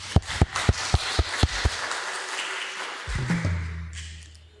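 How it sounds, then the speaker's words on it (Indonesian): An audience at an HKBP church youth gathering in Cimahi applauds: a series of sharp, evenly spaced claps up front over a steady wash of crowd clapping that fades into a low hum near the end. "Beri tepuk tangan."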